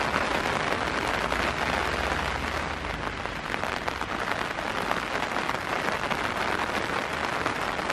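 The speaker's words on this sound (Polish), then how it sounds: "niestety, ciągle pada" Steady rain pours over an outdoor spot in Basel, a dense unbroken hiss of drops striking surfaces from close by, loud and continuous throughout with no voices.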